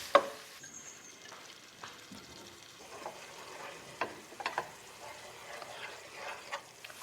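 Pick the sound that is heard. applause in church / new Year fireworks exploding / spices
spices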